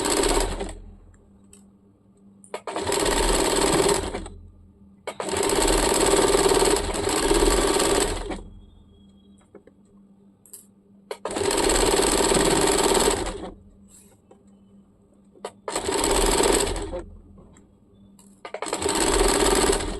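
A sewing machine stitching a churidar runs in loud bursts of several seconds each, separated by brief pauses, close and steady with no talk.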